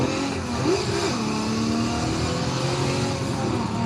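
Race car engine in Forza Motorsport 7 at Laguna Seca, a steady loud roar with a rising and falling pitch as it revs through gear changes, continuous and up close throughout.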